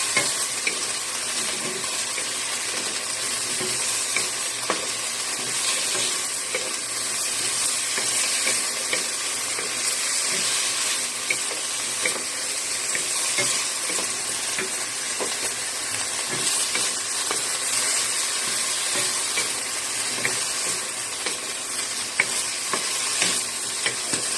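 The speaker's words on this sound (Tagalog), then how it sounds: "Ilalagay natin yung patatas at carrots para sabay sila maluto. Haluin natin." Potatoes and carrots stirred as they fry in a pan, a steady loud sizzle running throughout with scraping stir sounds and faint watery hissing of steam, no talk.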